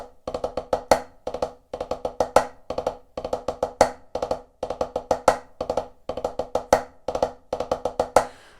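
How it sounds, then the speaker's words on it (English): Double ratamacue rudiment on a snare drum, repeated in steady cycles of quick ruffs leading into crisp triplet strokes with an accented final hit, close, dry and loud, no voices. "So that's double Ratamacue."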